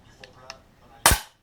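Single sharp crack from an Artemis CP400 4.5 mm CO2 air pistol, close and loud, a brief snap that fades quickly after faint clicks.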